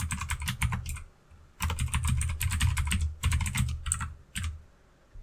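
Fingers type on a computer keyboard in quick clicking bursts separated by short pauses, close and clear, with no talking.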